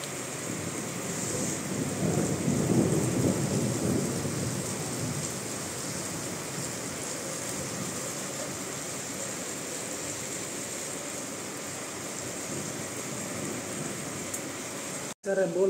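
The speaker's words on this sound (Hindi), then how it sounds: "बाहर इतना ज़बरदस्त बारिश आ रहा है।" Heavy rain falling outside at night in Bangalore, a dense, continuous hiss and rush that swells early and stays steady throughout, ending in a brief cut.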